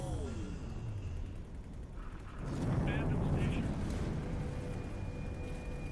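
Missiles fire and explode in the space game X4 Timelines as a steady loud rumbling roar with rising booms, heard under an ongoing layer of game noise.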